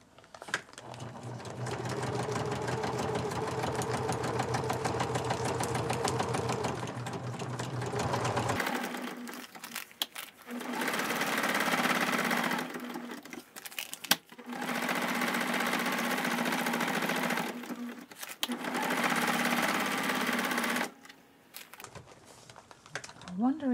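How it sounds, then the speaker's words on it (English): A sewing machine stitches through a paper-bag mini journal with variegated pink-and-green thread, running in long steady whirring bursts separated by short pauses, close and fairly loud, with a voice speaking over the first stretch. "variegated thread with pink and a hint of green in it that I will sew with."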